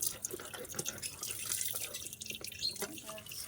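Water runs and drips into a kitchen sink during dishwashing, a faint hissing wash broken by scattered splashes and clinks.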